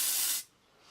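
Naturally Fresh cotton flower deodorant sprays in one close, loud, steady hissing burst lasting just under half a second, then cuts off to quiet.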